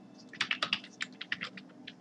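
Rapid, irregular keystrokes on a computer keyboard while PHP code is typed, close and steady for about two seconds, with no talking.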